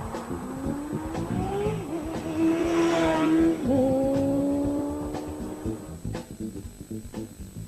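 A Triumph Daytona 600 four-cylinder 600cc sports bike engine revs up steadily and loudly with rising harmonic whine, holding a high pitch, dipping briefly, then climbing again before fading.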